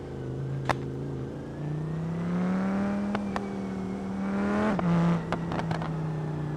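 Race car engine in a racing video game hums in a steady, moderately loud drone. Its pitch climbs gradually, then drops sharply as if shifting, with a few brief clicks along the way and no talk.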